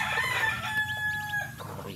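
Hens clucking in a farmyard around a broody hen with newly hatched chicks, with a rooster crowing nearby over a low background rumble.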